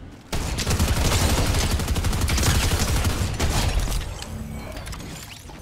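Rapid loud gunfire bursts in Fortnite, including shotgun blasts, a dense volley of overlapping shots that continues for several seconds and then fades into a rumbling tail, no talk.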